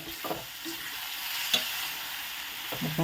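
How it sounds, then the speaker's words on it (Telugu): Spoon stirring amla (Indian gooseberry) curry in a pan, a soft steady sizzle with faint scrapes throughout, close and fairly quiet, no talking. "వేసుకున్న తర్వాత ఇప్పుడు చక్కగా కలిపేసుకుందాం మనం"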